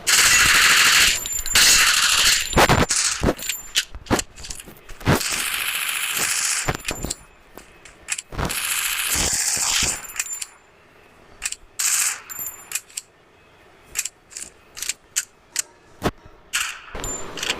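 SCAR assault rifle in the mobile game Free Fire Max, with rapid automatic bursts of gunfire followed by mechanical clicks and clacks of reloading, then a few sharp isolated shots and metallic clinks, loud and close.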